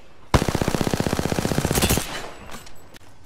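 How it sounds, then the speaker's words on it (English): Automatic weapon fire in the video game Apex Legends rattles out as one loud, rapid burst of about twenty evenly spaced shots lasting under two seconds, followed by fainter distant shots and game sounds. "Getting shot at."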